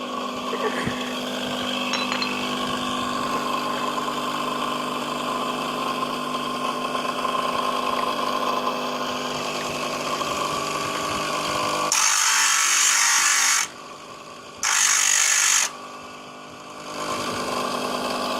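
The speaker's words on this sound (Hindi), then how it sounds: "अब हम ब्रेक शू ग्राइंडर लगाएंगे ब्रेक शू को" A grinder works on a Honda CD 70 motorcycle brake shoe: a steady motor hum runs for about twelve seconds, then two loud, harsh grinding bursts follow with a short pause between them.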